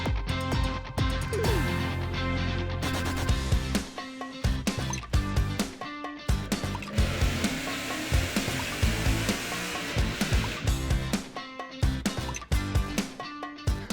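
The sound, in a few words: car running on a dynamometer (dyno)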